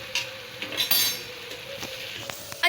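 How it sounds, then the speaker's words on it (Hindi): A spoon clinks and scrapes against a metal pot in bright, scattered taps as spices are mixed into chicken for chicken karahi, with no talking. "अच्छी तरह आप अब इसको मिक्स कर लेंगे।"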